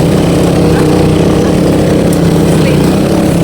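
A motorcycle engine labors uphill with a loud, steady, droning roar close by, its strained tone continuous throughout.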